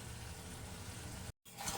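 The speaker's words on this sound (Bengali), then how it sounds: "এবার ভেজে রাখা বেগুনগুলো একে একে দিয়ে দেব" Fried eggplant pieces go into a hot pan for an eggplant dish with sour yogurt, poppy seeds and cashews, giving a steady soft sizzle that breaks off for a moment before the frying crackle swells again.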